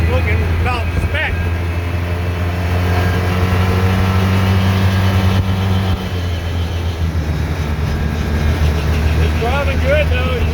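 A 2013 Polaris RZR 800S with a freshly rebuilt motor runs steadily while driving, a loud continuous engine drone with a shaky, vibrating hum that holds throughout without a break.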